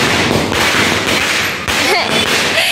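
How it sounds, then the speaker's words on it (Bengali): Dense, continuous crackle of firecrackers bursting during Diwali celebrations in an old neighbourhood, loud and close, with overlapping pops and a brief dip midway, voices faintly mixed in. "ওখানে দেখো কত বাজিও ফাটছে"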